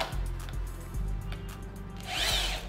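A corded power drill drives a screw into wood, its motor whirring loudly in short bursts with a rising whine near the end, with no voices over it.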